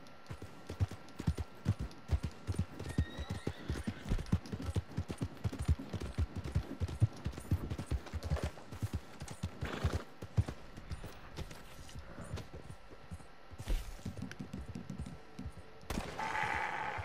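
Horse hooves clip-clop in a brisk, steady rhythm in the Red Dead Redemption 2 Online video game, close and continuous, with scattered sharp bursts and a brief rise of other game noise near the end.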